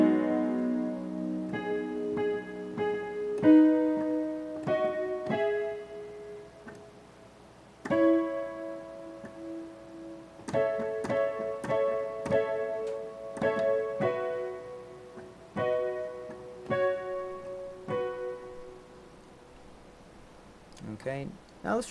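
Piano playing the riff of a pop song fluidly at an even tempo, with clear repeated chords and single notes, close and solo with no talking.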